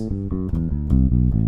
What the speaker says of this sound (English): then the correct mode to that would be A Dorian